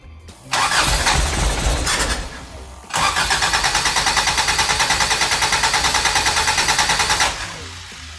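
A Toyota AE86 with a 4A-GE engine on Keihin FCR41 carburetors cranks briefly, stalls, then catches and revs loudly with a fast, choppy pulsing for several seconds before dropping back near the end.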